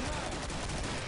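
Dense, continuous AA-12 shotgun fire in the video game Killing Floor, a loud, unbroken barrage of rapid blasts that fills the brief moment.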